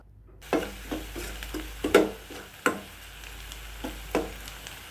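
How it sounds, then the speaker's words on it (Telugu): Onions frying in a pan to golden brown for a prawn curry, with a steady low sizzle broken by repeated sharp spatula scrapes and stirs at an irregular pace, close and moderately loud, no voices. "ఇప్పుడు ఉల్లిపాయలు అనేవి వేగిపోయాయి ఇలా గోల్డెన్ బ్రౌన్ కలర్ వచ్చే వరకు వేయించుకున్న తర్వాత"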